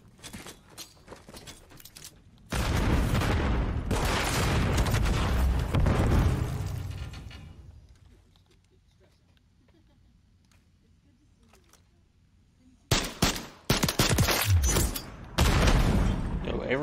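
Sniper gunfire in a first-person shooter video game: loud bursts of shots and impacts come in dense clusters, drop to a quiet gap, then return in sharp cracks near the end.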